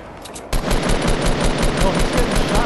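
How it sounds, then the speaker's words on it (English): Rapid automatic gunfire in a Fortnite Battle Royale squad match bursts in after a quieter moment and keeps up as a dense, loud rattling stream. "Oh, he's getting shot."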